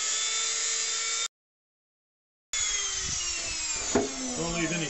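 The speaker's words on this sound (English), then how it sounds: "Doing work like this, chances are pretty good you've got a Dremel." A Dremel rotary tool smooths sharp edges on cast aluminum, giving a steady high-pitched whine that cuts out for a silent gap and then resumes with a brief grinding burst.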